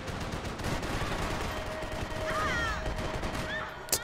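Dense gunfire in a Max Payne 3 multiplayer large team deathmatch, steady rapid shots layered with other sounds throughout, ending in one sharp loud crack.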